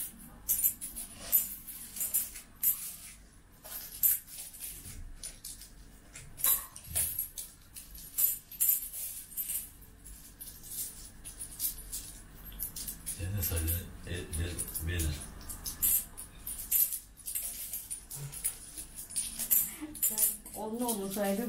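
Loose coins from a piggy bank rattle and clink through a coin-counting machine in a continuous metallic jangle with sharp ticks and whirring, while people talk over it throughout.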